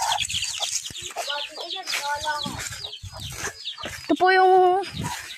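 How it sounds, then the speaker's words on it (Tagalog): Chickens clucking close by in a busy run, overlapping calls and short squawks with one louder drawn-out cackle near the end. "Ito yung mga manok."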